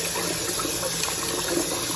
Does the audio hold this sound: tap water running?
yes